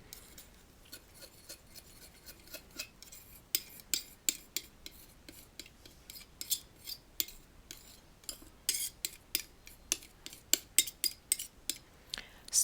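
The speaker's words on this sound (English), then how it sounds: "Just mix that up" Palette knife working powder paste for a Clear Scraps Mascils technique, scraping and clinking softly in irregular taps and scratches that come closer and busier toward the end, with no voices.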